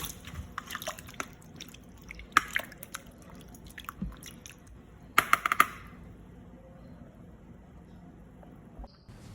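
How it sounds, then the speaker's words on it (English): Plantain slices stirred by hand in salted water in a home kitchen, giving soft wet squishes and small drips with a few sharper clicks and splashes, close and fairly quiet, with no talk. "Add in your water and then mix it together till it combines well."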